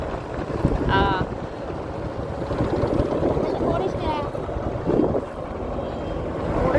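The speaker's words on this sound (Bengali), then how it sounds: "বাতাস ওরে বাতাস এত সুন্দর" Wind rushes across the microphone during a river boat trip, a steady loud broadband roar with gusty swells that lasts throughout, while faint voices come and go underneath.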